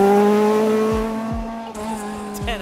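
A historic rally car, likely a Ford Escort, on a stage of the Killarney Historic Rally, its loud engine note sliding steadily as it passes close at speed, with sharp pops and crackles near the end.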